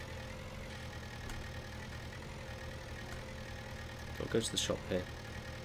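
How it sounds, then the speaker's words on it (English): A tractor engine idles steadily in Farming Simulator 19, a low continuous hum under a man's speech, with a short burst of louder clatter near the end. "I love this tractor anyway."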